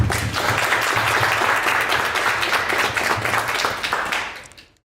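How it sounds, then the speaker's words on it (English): Audience applause for event sponsors at a 1 Million Cups Dallas gathering: dense, loud, steady clapping from a crowd that sustains for several seconds, then fades out near the end. "So we'll give a round of applause for everybody, all of our sponsors."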